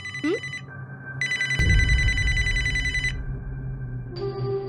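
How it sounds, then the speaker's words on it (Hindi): A telephone bell rings in loud, repeated bursts in an indoor scene from a Hindi short film, with a thud and some background movement between the rings. "उठाओ उठाओ, फोन उठाओ"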